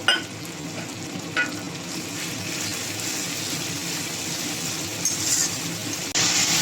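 Tomato, green chillies and mustard paste sauté in a pan for a fish curry, a steady close sizzle with occasional scrapes and clinks of a stirring utensil against the pan.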